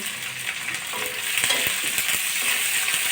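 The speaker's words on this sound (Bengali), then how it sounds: "আমি পেঁয়াজটা একটু ভাজি ভাজি করে নেব" Chopped onion and garlic fry in a pan with a loud, close sizzle, broken by crackles and scraping stirs.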